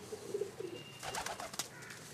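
Cheeta breed pigeons kept at home give a brief, soft coo, low and faint, followed by a few light chirpy sounds in the background.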